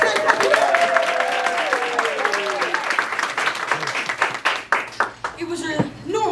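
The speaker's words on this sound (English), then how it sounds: "Let's give a big round of applause" Audience applause at an improv comedy show, full clapping with a few whoops at first that tapers into scattered individual claps, with a voice briefly speaking at the end.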